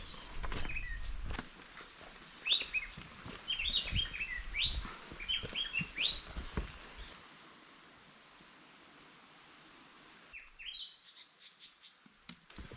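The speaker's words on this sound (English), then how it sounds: "all we could hear were the wonderful bird songs." Several birds chirp and trill in bright, repeated bursts over quiet ambience in a foggy Costa Rican forest on a volcano hike, with a few rustling footsteps; the calls fade midway, then return faintly.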